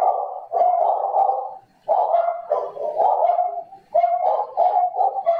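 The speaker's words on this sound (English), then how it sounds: "you hear even the dogs barking in a different language" Several dogs bark repeatedly outdoors in Guyana, a run of mid-pitched barks and yips in clustered bursts with brief pauses, fairly loud and close, with no talk over them.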